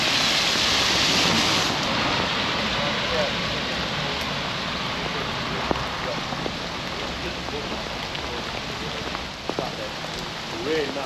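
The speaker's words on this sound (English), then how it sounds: "The rain now is absolutely," Heavy rain pours down along an old disused railway line in Oldham, a dense, constant hiss of drops that stays loud and even, with a few faint thuds and movements beneath it.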